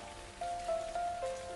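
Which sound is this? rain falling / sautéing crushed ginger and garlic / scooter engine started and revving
rain falling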